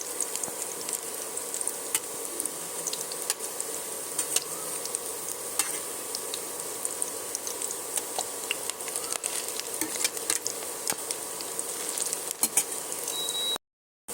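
Fish roe fritters fry in hot oil in a pan, giving a continuous close crackling sizzle with soft popping, and no voices are heard.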